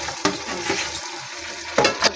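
Small puti fish fry in hot oil in a wok, giving a steady sizzle broken by a few sharp stirring knocks and scrapes, close by, with no talk.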